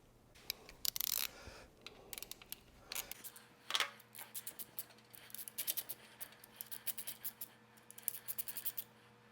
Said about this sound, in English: we can come and tighten the fronts here